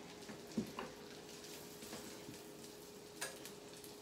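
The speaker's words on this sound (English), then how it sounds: "you can hear them sizzling away there" Newfoundland fish cakes sizzle quietly in a frying pan, a soft steady hiss with a couple of small pops and clicks, faint and close with no talk.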